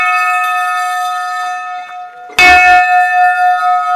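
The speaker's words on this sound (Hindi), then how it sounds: "तो दोस्तों ये है घंटी" A temple bell rings during village worship for Guru Gorakhnath in the hills, a sustained metallic tone that fades and is then struck again loudly, with the ring decaying and pulsing.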